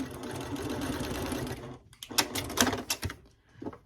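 A sewing machine stitches a quilt seam in one steady rapid run of needle clatter, then stops and gives a few sharp clicks and taps, fairly quiet and close.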